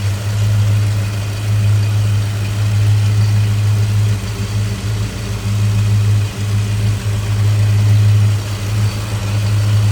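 A 1964 Ford Falcon Sprint with a 260 V8, Shelby intake manifold and Holley four-barrel carburetor idles steadily with a deep, loud, even rumble that stays constant throughout and is heard alone.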